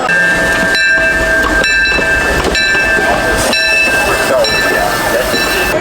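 Theme park railroad train pulling away from Toontown Depot toward Fantasyland, a steady loud rumble of wheels and cars with bright tonal squeals and hisses running throughout, no talk heard.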